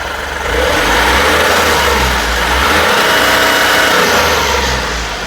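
Ashok Leyland Bada Dost light truck engine running steadily after a start, a loud, close diesel drone with a low rumbling pulse that holds through the clip without any talk.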